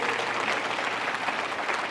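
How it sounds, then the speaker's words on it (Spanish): Church congregation clapping during a service, a dense continuous burst of applause filling the whole moment. "Vamos a darle un aplauso a Dios"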